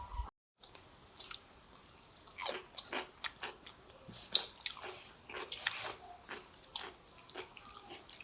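Puffed rice (muri) being eaten by people at home, heard as close, irregular crunching and chewing bites with small squishy mouth noises, fairly faint with no talk.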